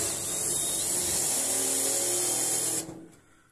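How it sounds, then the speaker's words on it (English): A power drill with a larger bit countersinking drilled holes in a steel door: a loud, steady, close-up whirring grind with a high metallic hiss, running for nearly three seconds before stopping. "put a bigger drill bit on and countersink these holes a little bit"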